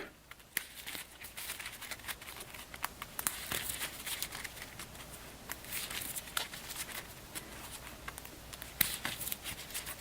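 A deck of investigate cards from a board game being shuffled and cut on a table, with a steady, quiet, continuous papery riffling and crinkling that carries on throughout without any talk.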